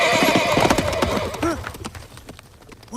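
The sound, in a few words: horse neighing and galloping in the movie Willow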